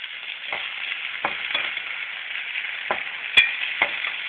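Vegetable pieces for upma being stirred in a pan, a steady bright sizzle with a handful of sharp scraping ticks spaced irregularly, close and without speech.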